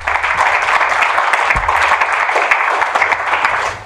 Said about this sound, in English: a big applause for our panelists